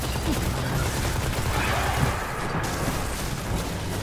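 Continuous rapid gunfire from the player's weapon in a video game, a dense unbroken fusillade of shots under heavy battle noise, loud and close throughout.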